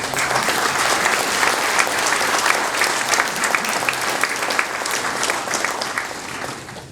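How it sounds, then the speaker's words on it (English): A crowd applauds steadily at a monument dedication, a dense, even wash of clapping from many hands that holds for the whole stretch without a break. "I think you should all give yourself a big round of applause."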